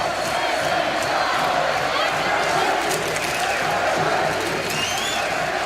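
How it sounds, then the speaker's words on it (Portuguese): Football fans of Guarani cheering and chanting in a Brazilian stadium during a Série B match against Atlético-GO, a dense, loud roar of the crowd sustained throughout. "a torcida fazendo a festa"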